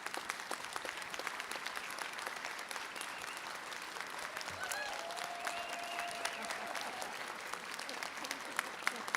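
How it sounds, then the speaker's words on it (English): Quiet, distant applause from a commencement ceremony audience honoring standing faculty, a soft steady patter of many hands heard from afar throughout. "I'd like to ask our faculty members to rise and receive a round of applause."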